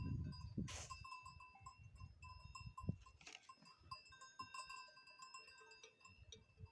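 A flock of sheep outdoors in the mountains, faint bleats and a clanking bell amid soft rustling, distant and quiet.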